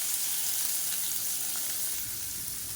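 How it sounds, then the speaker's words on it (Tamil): Chopped onions sizzle in hot oil with mustard seeds and curry leaves as they cook for a simple Tamil lunch, a steady, close frying crackle running throughout with no talk. "ஒரு கைப்பிடி அளவுக்கு பெரிய வெங்காயம் கட் பண்ணதை சேர்த்துக்கலாம்"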